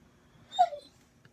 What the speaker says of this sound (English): My dog says good morning